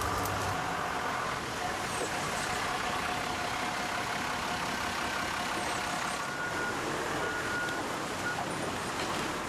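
A tractor hauls harvested sugar cane on a Martinique plantation, its engine a steady, close, low rumble that holds unbroken for the whole stretch.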